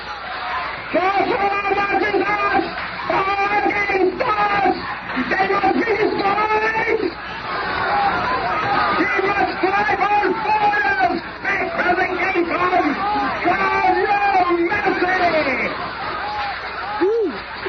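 An animated crowd roars and chants in rage, with repeated loud shouting bursts in rhythmic waves, a mass of overlapping voices filling the clip, broken by brief pauses.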